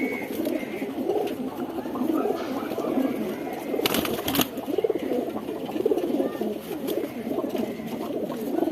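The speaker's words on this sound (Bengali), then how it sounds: "এই হলো কবুতরগুলো, ভাই নর কবুতর" Pigeons in a loft coo in soft, repeated throaty calls, and a short burst of wing flapping comes midway, while someone talks nearby.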